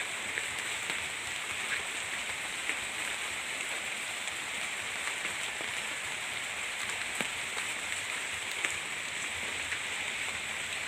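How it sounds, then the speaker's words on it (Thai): Steady light rain patters on surfaces, a continuous soft hiss with occasional distinct drips, no voices. "บรรยากาศตอนนี้ก็ฝนตก"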